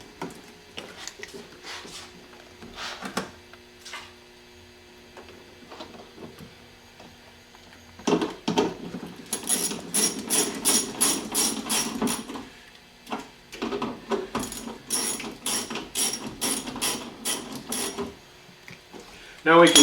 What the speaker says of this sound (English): I'm just going to put the screws back in there.